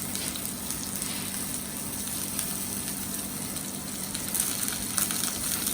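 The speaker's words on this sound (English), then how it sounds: "So turn our potatoes over, nice colour. Just sauteing them." Potatoes sautéing in a pan, a steady, fairly quiet broadband sizzle that continues without pause, no talking.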